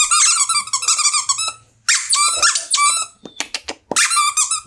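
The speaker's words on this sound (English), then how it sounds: "I'm going to squeak both these squeakers at the same time." Two dog toy squeakers are squeezed together, giving loud, close, high-pitched squeaks in rapid bursts with short pauses between them.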